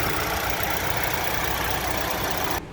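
A 2022 Hyundai Santa Cruz 2.5 turbo engine idles with a steady rumble, running continuously at an even level, then cutting off abruptly near the end.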